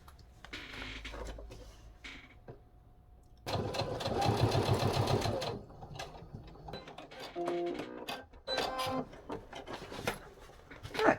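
Sewing machine stitching beneath the card slot of a fabric scrap-buster wallet, sewing through both layers; bursts of fast mechanical whirring with pauses and small handling rubs between runs, close and fairly loud.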